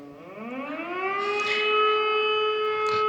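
A city civil defense siren sounds during a test in Megion, a steady wailing tone with strong harmonics that rises in pitch and loudness over the first second, then holds level and continuous.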